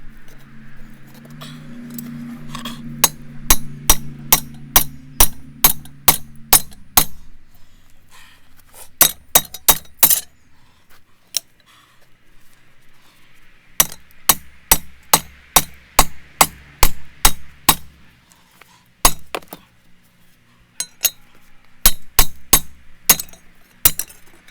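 A hammer drives a punch on an anvil to round out a hole in steel for a dadao blade, giving sharp metallic ringing strikes in rapid rhythmic runs separated by short pauses, close and loud.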